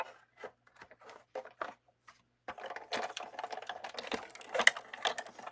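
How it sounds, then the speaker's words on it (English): Craft cutting machine feeding washi paper, a quiet run of rapid clicking and rattling bursts, sparse and intermittent at first, then a denser continuous chatter toward the end, close and soft. "And then running it through your cutter."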